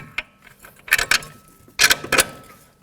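Metal bolt sliding into the steering knuckle of a front strut assembly on a 2013-18 Nissan Sentra: a few sharp metallic clicks and scrapes in two short bursts, close and fairly quiet.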